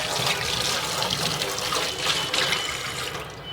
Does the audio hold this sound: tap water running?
yes